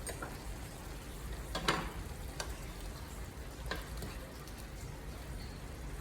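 Keto-style picadillo with green Spanish olives simmering in a pan, a faint, steady sizzle and bubbling with a few soft clicks and stirring taps, no talking.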